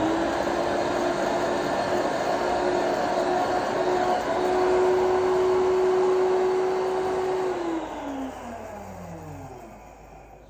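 An electric machine grinder runs steadily while grinding dry pepper, a loud, constant motorized whine and rattle that holds its pitch for several seconds, then winds down as the motor slows and stops.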